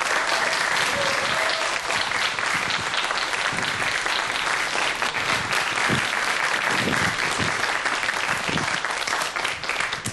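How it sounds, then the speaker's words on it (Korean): Loud, dense applause from a lecture-hall audience welcoming evolutionary psychologist Professor Jeon Jung-hwan to the stage, sustained evenly for about ten seconds with faint crowd murmur beneath. "큰 박수로 맞이해주십시오."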